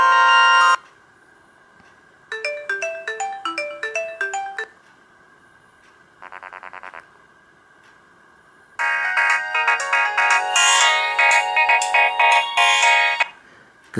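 A Nokia 2310 mobile phone plays several early polyphonic ringtone melodies in turn, bright beeping tune fragments separated by short pauses and cut off abruptly, heard close and clear with no talking.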